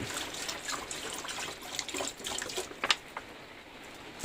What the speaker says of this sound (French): je viens y mettre directement mes carottes et de l'eau